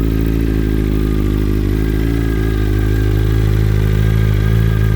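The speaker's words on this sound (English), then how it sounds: "that is the cold start of the M1000 RR" A BMW M 1000 RR superbike engine idling steadily after a cold start, a loud, continuous deep rumble with a slight rise in pitch and intensity.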